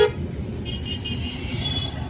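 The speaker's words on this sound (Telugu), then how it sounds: "కొట్టు హార్న్ కొట్టు" A car horn sounds briefly over the low rumble of road traffic, heard from inside a vehicle.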